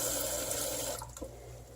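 Bathwater with a dissolving bath bomb is scooped or drained, giving a steady close rush of running water that thins into a quieter trickle with a few small splashes.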